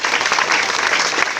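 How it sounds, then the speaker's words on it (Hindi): Audience applause at a school talent show greets a student arriving on stage, a steady, dense wash of many hands clapping throughout the short burst. "उनका हम लोग तालियों से स्वागत करेंगे"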